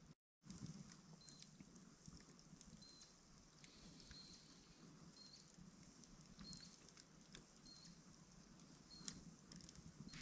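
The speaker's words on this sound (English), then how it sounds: "Okay guys, it's raining" Light rain patters softly on a tent during summer camping in Stephens State Forest, a faint, steady tapping with a few high chirps above it and no talking.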